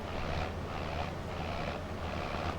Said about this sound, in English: Ooh, that's a good engine sound. It's a really good engine sound.